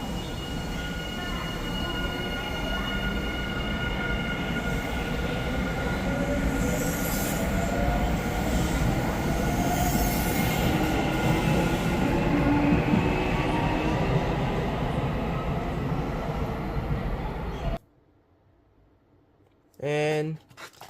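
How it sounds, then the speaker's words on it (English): A Japanese train passes close by with a loud, steady rumble of wheels and a whining motor drone for about seventeen seconds, then cuts off abruptly into near quiet before a brief final burst. "But I did manage to record a train with a similar motor though"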